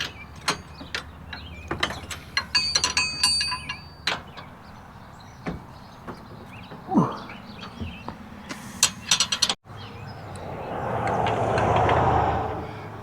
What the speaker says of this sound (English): I think you really need a wrench like I'm using here.